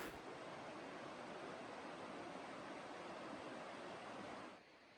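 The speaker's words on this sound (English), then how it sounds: "You can hear the river now." The Gray Wolf River rushes steadily along a backpacking trail, a continuous broadband wash of flowing water that holds level, then drops away slightly near the end, with no talking.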